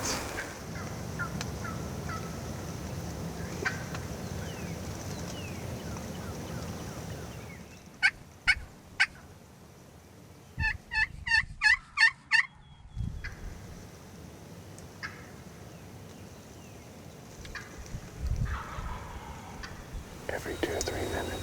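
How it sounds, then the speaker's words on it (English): A wild turkey gobbler gobbles during an opening-day spring hunt in Kentucky, with a short burst of rapid gobbling calls sounding from some distance in the woods between stretches of quiet outdoor ambience and faint whispered talk. "Every 2 or 3 minutes, that bird gobbles"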